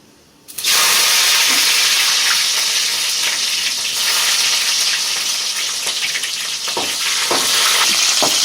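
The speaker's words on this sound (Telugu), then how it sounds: "ఆవాలు పగలనిచ్చైతే మనం ఎర్రగడ్డ వేసేసుకోవాలి" Sliced onions hit hot oil with crackling mustard seeds while cooking a mango chicken fry, and a sudden loud, steady sizzle starts near the beginning and carries on with light stirring scrapes.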